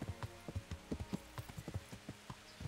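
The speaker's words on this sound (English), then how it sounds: "I am just going to ride through town on the horse" Horse hooves clip-clop at a steady walking pace on a town street in Kingdom Come: Deliverance, a regular string of crisp knocks, close and moderately loud.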